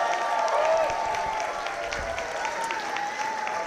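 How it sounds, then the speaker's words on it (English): Audience clapping steadily for a cast of 8- to 11-year-old performers at a school stage production of Beauty and the Beast Jr., a dense, sustained round of applause throughout with a faint voice underneath. "Go ahead and give them a clap."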